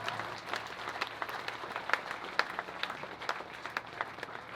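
An audience at a village event for a rural sports competition applauds with steady, dense clapping that continues evenly throughout, with a faint crowd murmur underneath.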